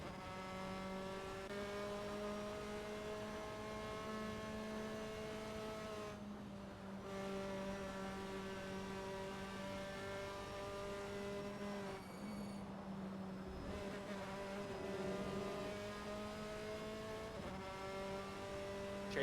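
Formula 4 race cars lapping Brands Hatch in an online sim-racing community cup, with several engines droning and shifting pitch together under steady, continuous revving through the whole stretch, no talk over it.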